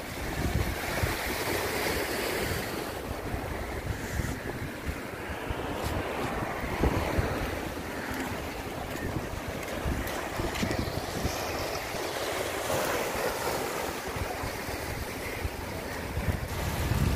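Sea waves wash along the Jeddah coast in Saudi Arabia, a steady broadband surf wash lasting throughout, mixed with heavy wind buffeting on the microphone and no voices.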